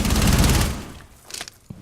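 A rapid burst of automatic gunfire from a high rate-of-fire weapon in a video game, loud and dense, then dropping away into a fading tail with a few scattered clicks.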